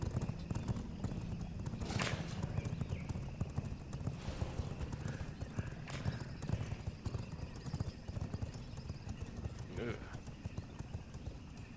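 A horse's hooves clip-clop steadily in a game forest setting, with occasional sharp knocks and a brief whinny under a dense, continuous background of ambient music and low rumble.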